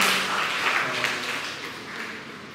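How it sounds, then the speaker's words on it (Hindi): A church congregation applauds the fathers at a Sunday evening Hindi service, a dense, steady wash of many hands clapping together in a large room, loud at first and gradually fading. "क्यों ना हम इन सभी पिताजी के लिए हम ताली बजाते हैं इस समय"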